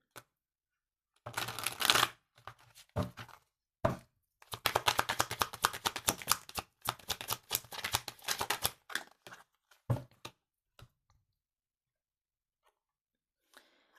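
Osho tarot cards shuffled by hand in bursts of quick riffling and papery slapping, with short pauses between handfuls, close and moderately loud, then trailing off into near silence.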